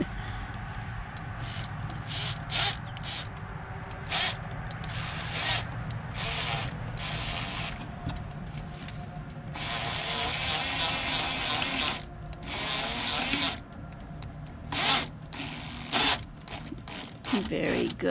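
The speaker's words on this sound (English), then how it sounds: "Good control of that drill thing." A power drill whirs in repeated short bursts and longer runs, with clicking mechanical ratcheting between, close by and fairly loud.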